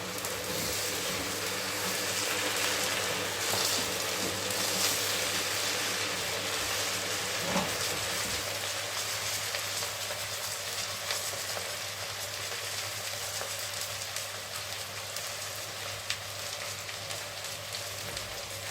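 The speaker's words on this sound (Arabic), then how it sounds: "هحمر بقى كل كميه الفراخ بنفس الطريقه" Chicken pieces fry in a pan for kabsa, giving a steady, even sizzle that continues unbroken, with an occasional faint clink of a utensil against the pan.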